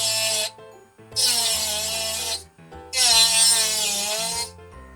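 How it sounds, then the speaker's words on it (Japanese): A small rotary router grinding black-painted plastic off a scale model Suzuki Jimny JA11 grille, a high whining buzz in three bursts with brief pauses, close and loud with no speech. "ルーターがあるとこんな感じで、さっき黒く塗ったところですね を簡単に削ることができますと。"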